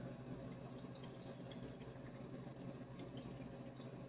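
Filtered water trickles steadily into a measuring cup while making syrup for baklava, a soft continuous pour at close range with faint liquid bubbling.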